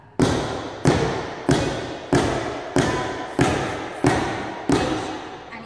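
Tap dancers stamping to keep the beat in a beginners' adult class, seven heavy evenly spaced thuds roughly every two-thirds of a second, each ringing briefly in the room, with no talking over them.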